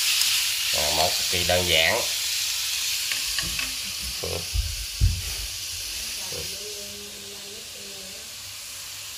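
Bitter melon and eggs stir-fried in a hot pan, a loud continuous hiss and sizzle with occasional clanks of utensil against the pan, while people talk over it.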